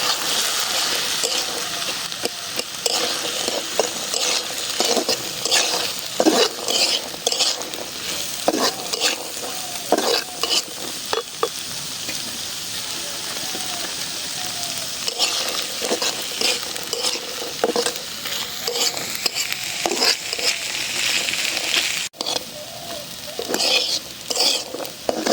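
Chickpeas stirred and fried in spiced oil in a pan, giving a steady sizzle with repeated scraping and clinking of a spoon against the cookware, close and continuous.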